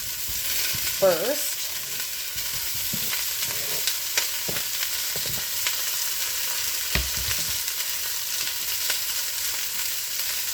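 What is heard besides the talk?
onion frying and sizzling in a pan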